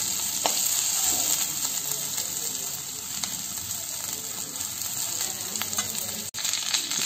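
Cumin seeds and soaked ginger frying in hot oil, a bright, steady crackling sizzle with occasional stirring scrapes and light clinks, close and constant with a brief cut near the end.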